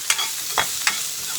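Onions fry with mustard seeds in hot oil, a steady sizzle in the pan punctuated by a few sharp pops and clinks of stirring, close by with no voices.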